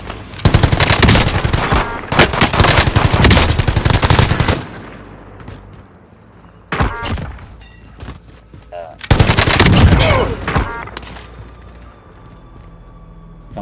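A machine gun fires at targets in long, loud bursts of rapid automatic fire. A couple of shorter bursts follow after brief pauses, with faint background noise between them.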